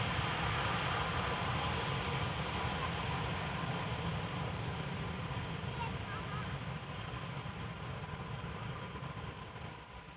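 EasyJet airliner on approach to land at Amsterdam Schiphol, a steady broadband engine rumble with a faint whine that eases slightly toward the end.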